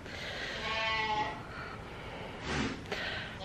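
A goat bleats loudly and repeatedly, calling out for another goat, with long, wavering cries close by and a shorter bleat near the end.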